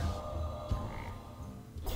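A frog croaks in the Hearthstone card game as a transform spell turns a tree minion into a frog. The low, gurgling croak is brief and sits under a soft musical background.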